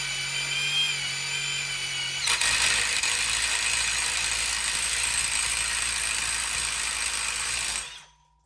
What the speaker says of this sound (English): I love step drill bits